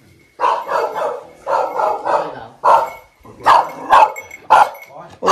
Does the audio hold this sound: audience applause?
no